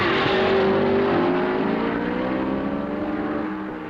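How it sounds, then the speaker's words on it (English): Ferrari and Maserati racing cars roar through a turn in a 1950s Formula One race, a loud continuous engine drone with a slowly falling pitch as they pass. "Into the south turn, the Ferraris of Hawthorne and Collins lead Fangio's Maserati"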